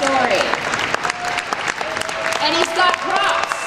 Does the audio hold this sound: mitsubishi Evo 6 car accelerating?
no